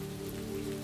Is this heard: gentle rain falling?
yes